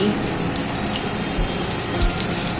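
Crispy chicken pieces, coated in flour, frying in oil after being flipped, a steady close sizzle with a couple of soft low thumps, no voices.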